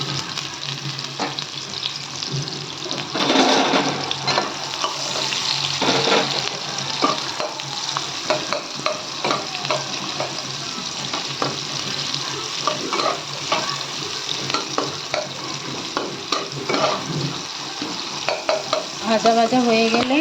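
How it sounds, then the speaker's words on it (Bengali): Onion paste frying in hot oil with aloo already fried, a steady dense sizzle with spatula stirring and scraping throughout, close and continuous for the whole stretch, no voices. "এবারে তেলে পেঁয়াজটা আগে ভেজে নেবো।"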